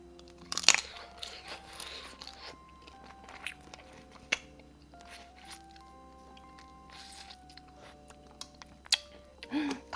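Crab legs from a spicy blue crab stew get crunched and chewed up close in a Korean mukbang, with irregular sharp cracks and wet chewing sounds against a quiet room.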